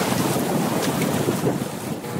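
A water ambulance boat pushes along the edge of the Indian Ocean near mangroves, its engine and the rushing wind and waves forming a steady, loud roar with no voices.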